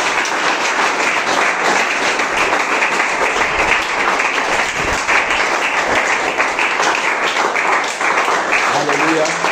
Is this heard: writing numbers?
no